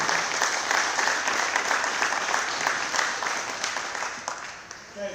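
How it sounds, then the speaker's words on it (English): Crowd at a drywall and floor-covering trade competition clapping for the young competitors, a sustained, even round of applause from a sizeable audience. "So let's give a good round of applause for these young men."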